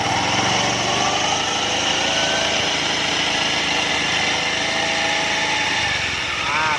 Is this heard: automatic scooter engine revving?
yes